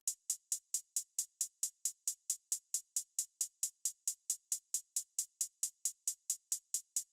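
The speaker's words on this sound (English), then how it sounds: "I came up with this very, very simple, basic close hat pattern." A basic trap-style closed hi-hat pattern from a beat plays alone as a quick, perfectly even stream of crisp, bright ticks, about four per second, soft and dry with nothing else under it.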